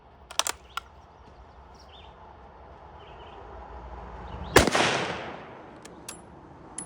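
A model 1899 Krag rifle fired at an outdoor range: one sharp crack followed by a rolling, fading echo over a steady outdoor background, with a few faint clicks a few seconds earlier.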